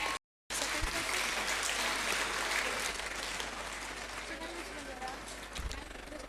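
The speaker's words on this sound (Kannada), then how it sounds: "ಜೋರಾದ ಚಪ್ಪಾಳೆಯೊಂದಿಗೆ" Loud applause for the slow bike race prize winners at an outdoor event: a brief dropout, then sustained crowd clapping that stays strong and gradually eases, with a low rumble underneath.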